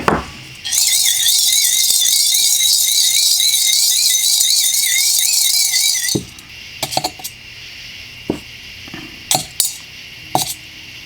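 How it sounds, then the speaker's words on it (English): Four small pistons from a Milwaukee M12 ratchet drop into a cup of cleaner, making a cluster of sharp clinks and taps after a long, high-pitched mechanical whine. The sounds are close and there is no talk. "Let's put our 4 pistons in this now cup of cleaner."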